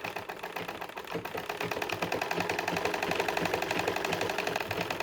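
A sewing machine backstitches along a fabric edge for a gown, its rapid mechanical needle clatter speeding up into a steady loud rhythm.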